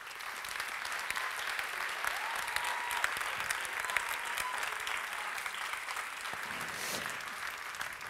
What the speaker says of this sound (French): Je vous remercie de les applaudir très fort.